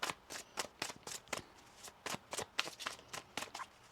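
Cards are riffled and shuffled in quick, rhythmic bursts, close and quiet, repeating steadily for a few seconds.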